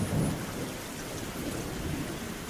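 Heavy downpour with thunder on a gloomy day in Calcutta, a steady dense roar of rain with a low rumble of thunder near the start, no voices.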